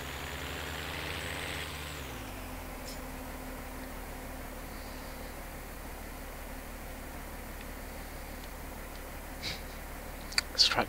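A tractor engine in Farming Simulator 2013 idles steadily with a low, even drone and a faint hiss. The pitch drops early on, and a few sharp clicks come near the end.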